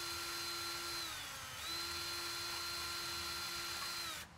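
A power drill bores into a homemade trumpet practice mute, a steady high whine that dips briefly in pitch midway as the bit loads, then resumes until it cuts off, close and alone.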